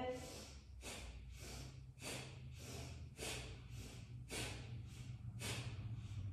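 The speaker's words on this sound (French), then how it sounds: "Et vous allez faire une respiration assez rapide" A person doing a rapid breathing exercise, about eight quick, forceful breaths in a steady rhythm, each a sharp airy puff through the nose or mouth, close and clear over a low hum.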